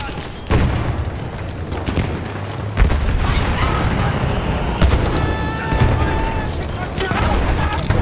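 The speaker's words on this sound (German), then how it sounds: "Vorsicht, Jungs, ich werfe eine Granate!" A grenade exploding in the video game Battlefield 1, buried inside dense and continuous battle noise with booms and gunfire, loud and close throughout.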